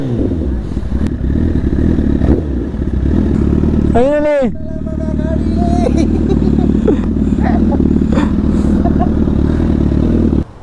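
Honda Fireblade SP sport motorcycle engine running loud and steady close by, with a brief rising rev partway through, under people chatting and talking throughout.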